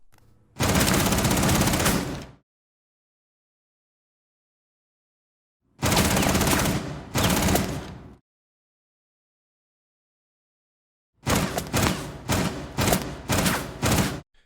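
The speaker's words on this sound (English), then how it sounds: "The weapon that you could hear being played in the background was of course Clash's SPS MG-9" Clash's SPS MG-9 automatic weapon in Rainbow Six Siege fires in three loud, close bursts: a sustained stream, then two short rattles, then a choppy run of rapid shots, with dead silence between each burst.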